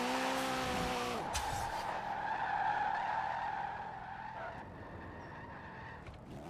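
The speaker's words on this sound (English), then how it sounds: "It is so simple to drift on this game. So second gear, light the tyres up. Third gear, carry on lighting them up. Handbrake." Car tires squeal in a long continuous skid while drifting in Forza Horizon 4, with engine revs shifting at the start, a sustained screech, and a gradual fade toward the end.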